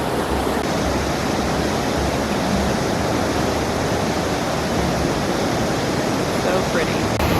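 A steady, full roar of a waterfall in Geiranger, Norway, constant and close, with no change in intensity from start to finish.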